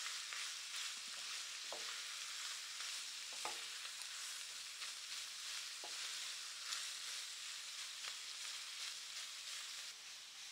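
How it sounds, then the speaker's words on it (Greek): Coarsely chopped onions sautéing in a pan, a steady close sizzle throughout with occasional clicks and scrapes of stirring, no talk. "Ρίχνουμε τα κρεμμύδια μας,"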